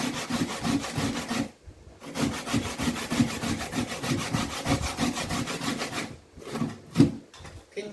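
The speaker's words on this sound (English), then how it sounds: "while I grate these potatoes" Sweet potatoes are grated by hand for a pudding, making a rhythmic rasping scrape with each stroke against the grater. The strokes are close and fairly loud, run in quick repeated bursts, and pause briefly twice. No one speaks.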